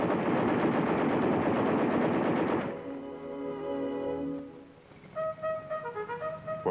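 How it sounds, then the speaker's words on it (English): Machine guns on an M60 Patton tank fire one loud, dense, sustained burst of rapid shots, then stop abruptly as music takes over. "105mm cannon and 2 machine guns. All weapons can be fired from within."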